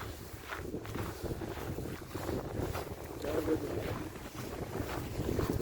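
Cold, bitter wind blows steadily outdoors, buffeting the microphone as a continuous low roar that swells slightly toward the end.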